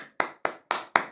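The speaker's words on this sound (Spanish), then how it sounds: "Aplauso." Applause at a Christian church sermon, heard as four distinct, evenly spaced sharp claps, close and alone without talk.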